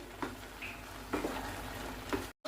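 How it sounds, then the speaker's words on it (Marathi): Carrot halwa with milk being stirred in a pan over a high gas flame: soft continuous sizzling and bubbling with several scraping strokes of the spoon, close and fairly quiet. "अशा रीतीने फास्ट गॅसवर हलवत आहे मी"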